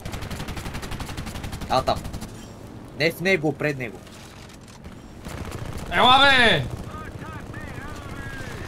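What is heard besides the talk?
gunfire from a video game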